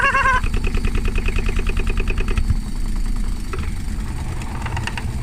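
An Indesit washing machine with a bad motor spins with its door open, giving a rapid rhythmic knocking and mechanical hum as the drum whirls and bangs. The pace then settles into a rougher, steadier drone.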